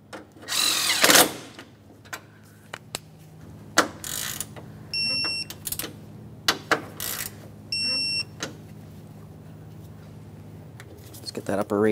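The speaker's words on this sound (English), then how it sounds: "Start in each of your two mounting bolts and snug them up." Short bursts of a power tool whirring and ratcheting as radiator cooling fan mounting bolts are snugged on a 1994-1997 Honda Accord 2.2L, close by with pauses between, alongside brief beeps and someone talking.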